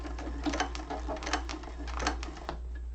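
An industrial sewing machine stitches over a thick seam on a hobo bag, a steady busy mechanical chatter with irregular needle thumps running throughout at close range.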